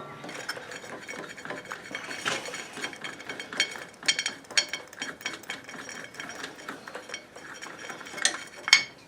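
Metal tools clink and ratchet while a nut is worked off a splined drive pulley on a Troy-Bilt Pony riding mower, giving a close, steady run of metallic clatter and scraping with sharper knocks scattered throughout.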